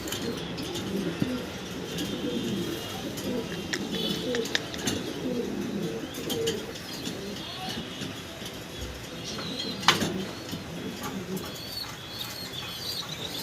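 Pigeons coo softly and repeatedly nearby, with occasional chirps and a few brief flutters against a quiet background.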